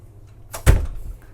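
A door swings open aboard a 121-foot Sunseeker superyacht, heard as one short, close thud with a brief rustle in a quiet interior.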